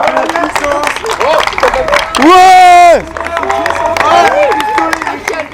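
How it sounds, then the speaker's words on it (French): An audience claps and cheers for a contest winner at an indoor event, with scattered applause and chatter around a brief loud musical jingle in the middle. "On peut applaudir Megan qui a gagné cette épreuve."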